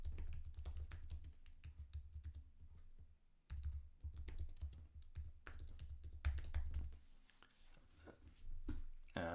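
Someone types a topic on a computer keyboard in quick, close clicking bursts, with a brief pause partway through and no talking.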